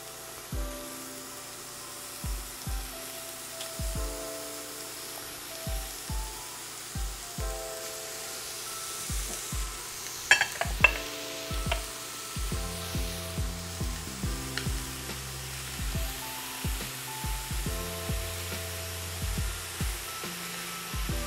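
Meat pieces sizzle as they sear in a hot pan for an Italian-style dish, a soft steady frying hiss running beneath prominent rhythmic background music with a few sharper crackles midway.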